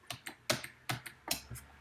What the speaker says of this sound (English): I'm using the arrow keys to move it.